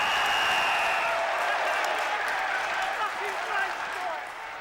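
Polite applause from a football stadium crowd at a West Ham United match, a light, distant patter of clapping and crowd murmur that fades gradually over a few seconds.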